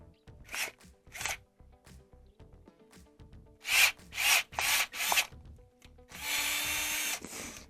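A screw driven by a power drill cutting new threads into the metal of a Frigidaire dryer drum, several short whirring bursts separated by pauses, then a longer sustained grinding run, up close with no talking.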